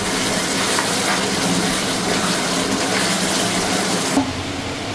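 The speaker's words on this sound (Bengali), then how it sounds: "এবার ভালো করে নেড়ে নিতে হবে।" Beef kala bhuna with masala is stirred in a hot pan, giving a loud, continuous sizzle with scraping stir noises close by and a brief clatter near the end.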